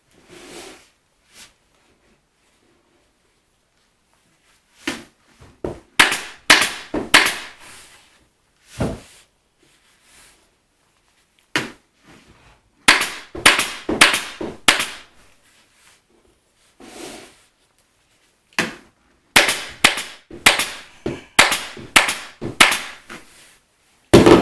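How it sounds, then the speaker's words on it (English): A staple gun stapling material onto a step cornice, sharp snapping shots fired in quick clusters of several, separated by quiet pauses, close and loud with no talk. "It also helps to reload your staple gun every once in a while."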